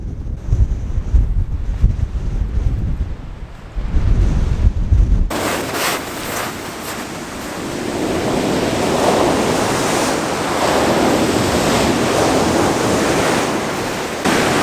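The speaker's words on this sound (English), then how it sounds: "It's really stormy, so I want to try and calm down these waves" Stormy ocean surf crashes under strong gusting wind, with heavy buffeting wind noise on the microphone at first, then a continuous roar of waves and wind that stays loud and close.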